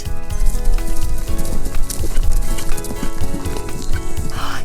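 Hooves clip-clop in a rhythmic trot as horses move along, with a whinny rising over the steady hoofbeats and music playing loudly underneath.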